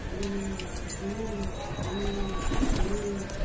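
Pigeons coo in a steady, repeating low rhythm, several soft calls close by, with faint background noise throughout.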